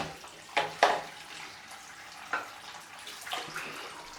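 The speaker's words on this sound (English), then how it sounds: "Sorry about the water noise." A tap runs to heat a razor blade before a shave, a faint steady wash of water with a few soft splashes and clunks near the sink, no talking.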